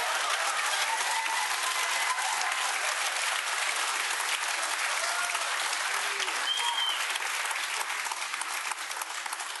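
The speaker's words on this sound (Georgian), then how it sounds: "აპლოდისმენტები" A studio audience at a television show applauds loudly and steadily, a dense sustained clatter of many hands with a brief whistle partway through.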